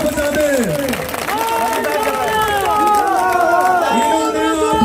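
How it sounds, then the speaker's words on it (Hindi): A crowd of farmers and women at a protest welcome claps loudly and continuously outdoors, mixed with chatter and a voice speaking over the applause. "एक बार सारे भाई इनके लिए जोरदार तालियां बजा दें"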